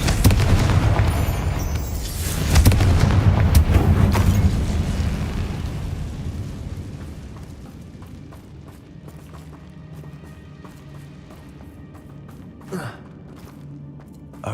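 A Confringo blasting spell in Hogwarts Legacy sets off a loud, rumbling explosion that booms for several seconds, then fades into quieter crackles and small debris sounds, with one sharp pop near the end.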